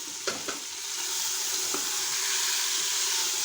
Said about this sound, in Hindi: ज़बरदस्त भुनाई हो रही है